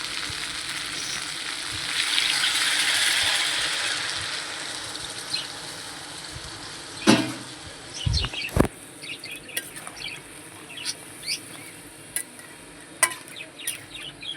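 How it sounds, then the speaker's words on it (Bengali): Water is poured into a pan of home-style chicken and potato curry, a loud rushing sizzle that swells and then fades, followed by scattered clicks and knocks of the pan. "জল দেবো"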